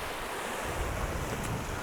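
Seawater washes over rocks on a stormy Madeira shoreline, a steady close roar of surf with wind rushing across the microphone and no voices.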